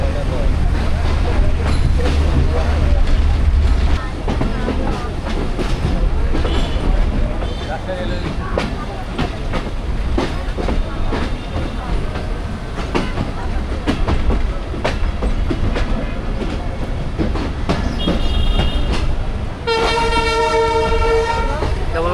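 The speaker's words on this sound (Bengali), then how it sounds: "অনেকদিন পর লোকাল ট্রেনে ভ্রমণ করছি" A local passenger train runs along the tracks in Bangladesh, with a continuous clattering rumble of wheels on rails, and its horn blares loudly near the end of the ride, as people talk faintly inside the carriage.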